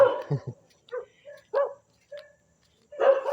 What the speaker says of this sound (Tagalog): May aso tumataon.